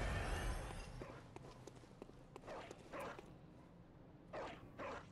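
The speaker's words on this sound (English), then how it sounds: "This dog seems to be barking at someone behind the door." In the video game Bloodborne, a dog barks behind a closed door, muffled and somewhat distant, giving a few scattered barks after an initial burst of noise.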